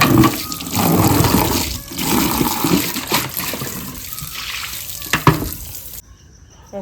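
Water splashes and gushes as a bucket is rinsed out, loud and close at first, then tapering into lighter trickles and drips before cutting off.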